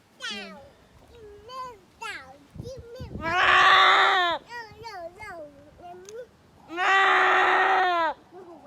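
A young Boer goat kid screams during banding, with shrill bleats in two long, loud bursts and shorter cries between them, as people talk close by.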